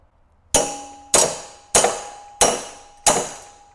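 Five evenly spaced, sharp metallic hammer blows ring out close by as a welded car part on a C5 Audi Allroad is bent, each strike leaving a short clanging decay.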